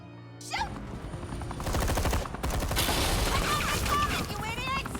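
Gunfire in the video game Batman: The Enemy Within, a sharp opening shot followed by a sustained, loud burst of rapid automatic fire mixed with game music and effects.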